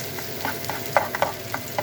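Onions frying in a pan hiss steadily while a spoon scrapes and stirs them in repeated short strokes, close and fairly loud.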